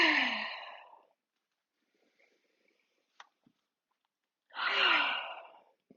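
Two slow, breathy exhalations while holding a standing yoga pose, one at the start and one near the end, separated by near silence with a few faint small sounds.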